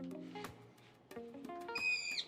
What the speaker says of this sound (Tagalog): Gising na ang ibon at ready na siya.